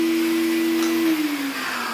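An old canister vacuum cleaner runs with a steady motor hum and whoosh of airflow, its tone dipping and sliding lower partway through as the load changes, alone without talk.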